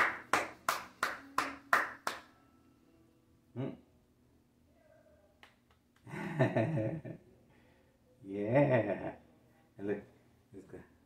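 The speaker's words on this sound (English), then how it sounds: "All right, here, let's clap." About six sharp hand claps in a quick, even series ring out close by indoors, followed by a few scattered claps and bursts of speech.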